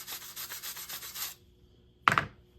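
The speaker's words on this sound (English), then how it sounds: "Take that brush and just scrub it." A brush scrubs glue residue off a plastic vent from a 1973–79 Ford truck, giving a rhythmic close scratchy rasp that stops, then a short sharp scrape after a pause.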